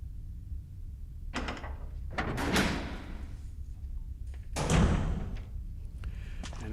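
Door sounds from the Resident Evil HD Remaster video game come as a few heavy thuds and creaks spaced over several seconds against a low rumbling ambience.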